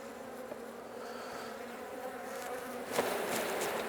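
Honey bees buzz steadily and close during a Langstroth hive inspection, a dense continuous drone with a brief louder flurry near the end and no talk.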